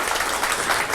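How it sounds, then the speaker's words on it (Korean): Dense audience applause for committee members at a declaration ceremony, a loud continuous wash of clapping in a brief burst. "우리 준비위원님들께도 박수 부탁드립니다"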